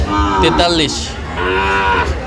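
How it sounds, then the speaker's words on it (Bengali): Sahiwal bull calves at a livestock market in Rajshahi moo loudly and near, with a couple of drawn-out bellowing calls over steady background crowd noise. "গরুগুলো একটু দেখান আমাদের"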